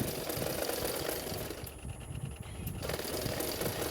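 A sewing machine runs a second line of stitching along the neckline of a sleeveless padded blouse, a steady close mechanical whir that briefly slackens midway before picking up again.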